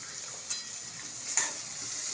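Capsicum and chillies sautéing in a pan while making cheese toast, a faint, steady hiss of sizzling with a couple of soft clicks.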